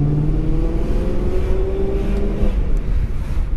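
BMW M sports car passing on a Munich street, a loud, close engine drone rising then steadying over several seconds amid steady traffic rumble.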